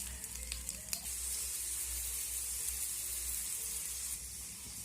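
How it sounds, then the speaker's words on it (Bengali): Breakfast snacks frying in a pan over low-to-medium heat while being pressed down, a soft continuous sizzle with a few faint clicks early on, close and steady, no talk. "আঁচটাকে আমি লো টু মিডিয়ামে রেখে এইভাবে একটু চেপে চেপে এগুলোকে ভেজে নেব"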